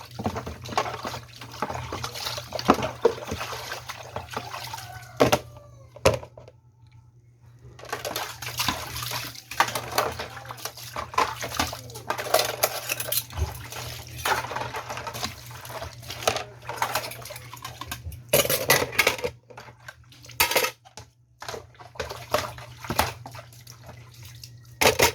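Dishes, pots and pans being washed by hand under running water during household chores, with steady splashing and trickling, intermittent clinks and brief pauses throughout.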